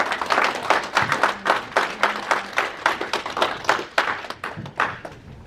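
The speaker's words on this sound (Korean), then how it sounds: "총영사님 나오실 때 다 같이 큰 박수 부탁드리겠습니다" Applause from an audience at a Korean community peace-unification lecture in Atlanta greets the consul general, a steady run of many hands clapping at close range with no voices over it.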